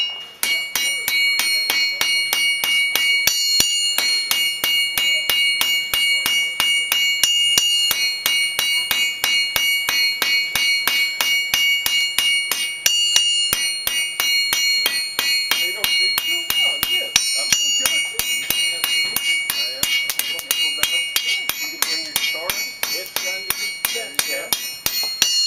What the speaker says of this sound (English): why do I tap on the anvil as I'm hammering?